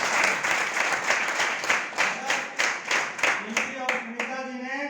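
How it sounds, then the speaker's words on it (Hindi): Audience applause after a bonus announcement at a business plan presentation, with rhythmic clapping that settles into a steady beat; a voice speaks near the end as it fades. "काजल जी के लिए एक बार जोरदार तालियां"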